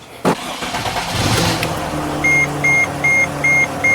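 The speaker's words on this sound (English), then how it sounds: "I'm gonna start the engine." A Sprinter van's engine cranks briefly and catches, settling into a steady idle while a dashboard warning chime beeps in an even repeating pattern; close and moderately loud, no talking.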